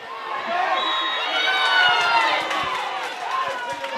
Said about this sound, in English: And the crowd don't like that.